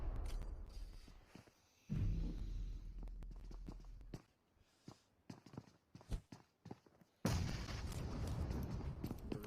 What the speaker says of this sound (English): Brilliant nade there from Pop.